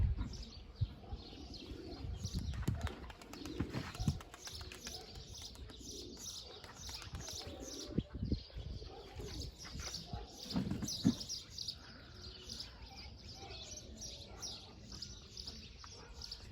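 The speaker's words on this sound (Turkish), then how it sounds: "Bayağı güzel oyunlu bir kuş." Tumbler pigeons flying and cooing around a rooftop loft, soft coos and chirps at a distance over faint outdoor background with occasional wing or handling noises.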